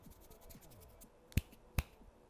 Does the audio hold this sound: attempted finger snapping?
yes